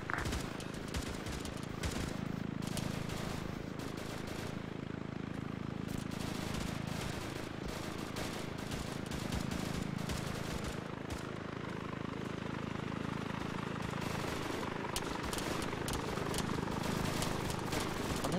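Gunfire rattles through a military operation in a video game, with sharp repeated shots and bursts over a constant droning engine-like background, fairly distant and quiet overall.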